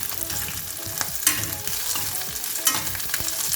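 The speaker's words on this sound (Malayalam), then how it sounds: "നമുക്കിനി ഇതിലേക്ക് കട്ട് ചെയ്ത് വെച്ചേക്കുന്ന പച്ചമുളക് ഇട്ട് കൊടുക്കാം. നന്നായി ഒന്ന് മിക്സ് ചെയ്യാം." Chopped green chillies sizzle loudly in a pan while a spatula stirs and scrapes through them in repeated strokes, with a steady frying hiss underneath.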